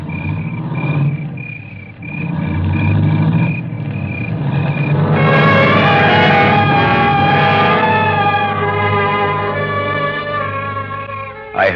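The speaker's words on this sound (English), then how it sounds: "I heard the car leave" A car engine in an old radio drama starts up and pulls away, a steady motor rumble building and holding for several seconds after a quieter stretch, close and fairly loud, with no voices.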